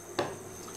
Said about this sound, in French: on les met simplement dans une poêle